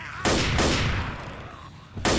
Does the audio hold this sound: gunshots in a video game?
yes